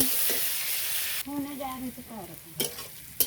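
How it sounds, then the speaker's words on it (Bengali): Close, continuous sizzling of onions frying in a pan, broken by a few scraping stirs, with a short tonal sound partway through. "পেঁয়াজগুলোকে হালকা ভেজে নিব।"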